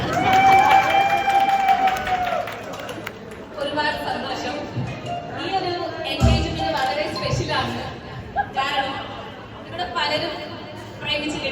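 An audience at an engagement celebration applauds, with scattered clapping and cheers mixed into busy crowd chatter and nearby voices speaking throughout.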